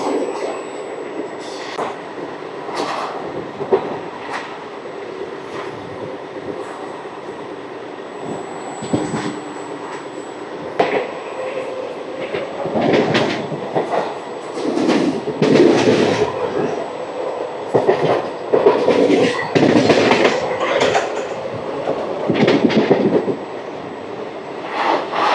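Simhadri Express runs between Annavaram and Tuni, a continuous rolling rumble with rhythmic clacks of wheels over rail joints, swelling louder and busier midway as the coaches rattle along.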